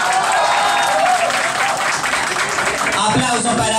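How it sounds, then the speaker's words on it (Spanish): Loud, dense applause and cheering from a show audience for a contestant, sustained throughout, with a voice briefly audible near the end. "Aplausos para Krishna Dacardi."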